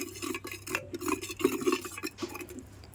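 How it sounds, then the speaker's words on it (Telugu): Green chilli pulusu ingredients being stirred together in a pan, giving soft, close scraping and light clinks of a utensil against the metal, steady and unhurried with no talking. "ఇవన్నీ బాగా మిక్స్ చేసేసుకోవాలి"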